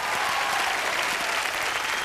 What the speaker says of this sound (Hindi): जोरदार तालियां इनके लिए एवरीबॉडी।